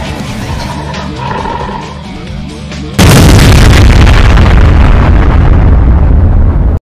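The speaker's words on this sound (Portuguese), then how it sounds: "Cortex ficaria impressionado com o barulho da explosão" A loud explosion effect from a cartoon action scene erupts suddenly, a massive roaring blast that holds at full strength for several seconds before cutting off, following a quieter stretch of rumbling and action noise.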